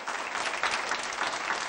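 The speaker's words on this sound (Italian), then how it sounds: "Questo momento iniziale, questo lungo applauso" A concert audience applauds at length, dense steady clapping from a large crowd filling the whole moment.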